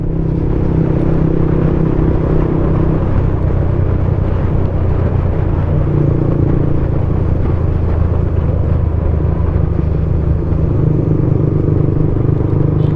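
A motorcycle carrying a passenger rides a winding, dangerous road in Masbate, its engine giving a continuous loud drone with slight rises and falls in pitch over wind rumble.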